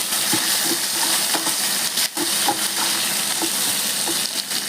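Toor dal, garlic, five or six green chillies, curry leaves and tomato fry in a pan with a steady, close sizzle, punctuated by stirring scrapes and light clinks of a utensil.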